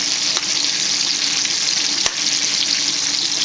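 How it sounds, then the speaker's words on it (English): Steak sizzles on a grill, a loud, steady, even hiss of searing meat with a couple of faint clicks and no voices. "Got a nice grilling going on."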